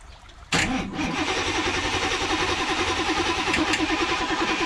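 A Pontiac Firebird engine cranks and catches with a sudden loud burst, then settles into a steady, rough idle close by.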